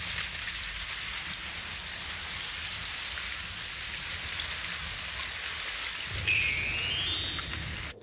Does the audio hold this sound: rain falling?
yes